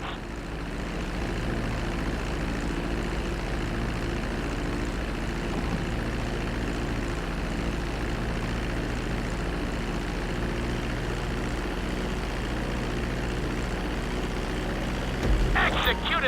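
A plane touches down on a runway in Grand Theft Auto V, its engine drone a steady, loud broadband roar that holds without a break throughout, with a brief bright burst near the end.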